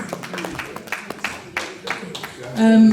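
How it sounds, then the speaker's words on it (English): At an evening community gathering, a small audience claps in scattered, separate bursts, individual hand claps sounding near and uneven, ending in a sustained tone and noise at the close. "A round of applause for her, please."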